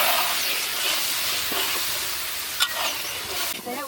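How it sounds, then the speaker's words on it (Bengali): Masala sizzling in hot oil in a pan while being stirred for a chicken bhuna, a steady close hiss with scraping and a few sharper spoon knocks toward the end, with no talking. "ভালোভাবে নিয়ে ছেড়ে ভেজে নিতে হবে যাতে লেগে না যায় রসটা দিয়ে মশলাটা ভালোভাবে কষিয়ে নিব"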